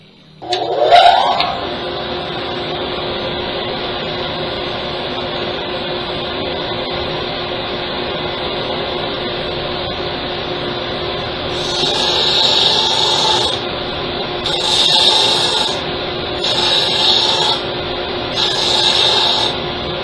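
Sanding a mixed media pen blank with fabric in it, a steady whirring hum running throughout with louder grinding bursts as the sander bites into the blank toward the end.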